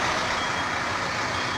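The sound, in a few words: supply trucks reversing with reversing beeps on a paving site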